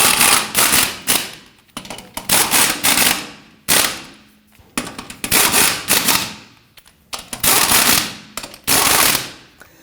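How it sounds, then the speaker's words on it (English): A pneumatic impact wrench hammers the lug nuts on a 2007-2017 Jeep Patriot front wheel, firing in six loud, close rattling bursts of about a second each separated by short pauses. "It's going to torque down our lug nuts to 100 foot-pounds, and we prefer to do this in a crisscross pattern."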